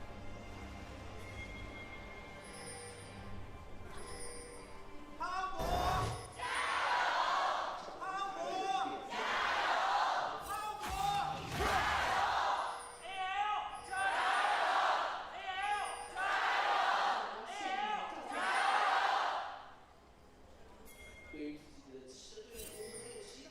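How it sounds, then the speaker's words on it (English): A packed esports arena crowd at an LPL League of Legends match between TT and NIP yells and cheers in loud repeated surges, swelling and falling in rhythmic waves for about fifteen seconds before subsiding. "Let the crowds yell first"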